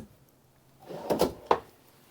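A storage drawer under the bathroom sink of a 2023 Dynamax DX3 Super C RV slides and shuts, a couple of quick wooden rumbles followed by a sharper closing knock, close and alone.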